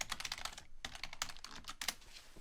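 Rapid typing on a computer keyboard while logging into Collaborate from Blackboard, a dense run of close, crisp key clicks with a few brief pauses and no talk.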